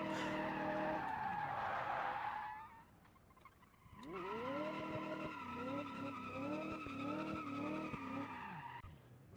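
A custom muscle car in a racing video game launching in third gear, its engine howling through rising revs with long, loud tire squeal and skidding, a short lull, then another sustained screeching run with the engine pitch climbing in steps.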